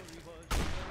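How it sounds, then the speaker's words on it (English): Gunfire from the video game Fallout New Vegas, Lonesome Road, erupts as a single loud burst midway, following a stretch of quieter background. "There's shooting going on."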